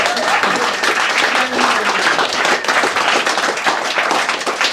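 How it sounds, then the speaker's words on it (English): A comedy club crowd at the Crown Inn pub gives the stand-up acts a loud, sustained round of applause. Many hands clap continuously, with scattered sharper claps and no speech on top. "can we have a round of applause for the acts tonight"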